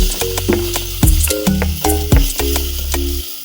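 Omena (dagaa) sizzles loudly in a pan while a stock cube is stirred in, with a steady hiss cut by repeated hard clanks and scrapes of the utensil against the pot.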